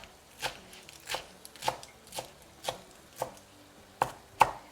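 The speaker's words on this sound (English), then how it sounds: "Now I've given it a wash and I'm just going to chop it up." A knife chops through freshly washed spinach leaves on a board, about nine crisp, close strokes at a steady, slightly uneven pace, with no other sound.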